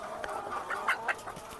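Layer hens on a poultry farm, with a few soft clucks and short calls rising over a steady background of flock noise and farm ambience, moderately close and fairly quiet.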